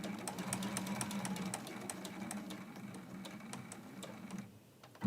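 A sewing machine back stitching on a quilt block hums quietly at a close distance, with a steady run of rapid needle ticks that eases off near the end.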